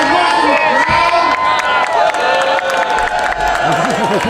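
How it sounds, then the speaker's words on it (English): A lively crowd at the Sake On The Rocks event cheers, shouts and whoops continuously, with rising and falling yells and some scattered clapping, loud and close throughout. "Let's hear some noise from the crowd"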